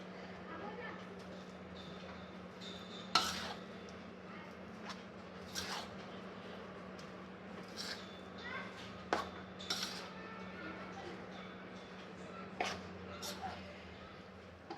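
A cutlet mixture with toast crumbs is mixed in a bowl, giving soft scraping and occasional clinks of a spoon against the dish, with a steady background hum; a person talks quietly at times.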